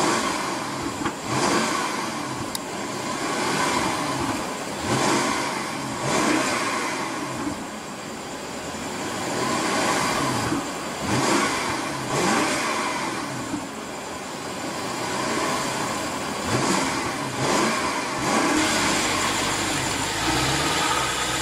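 A 2015 BMW 650i Gran Coupe's 4.4 liter V8 revs up repeatedly in a steady series of swelling, broadband surges, loud and close, with no talking over it.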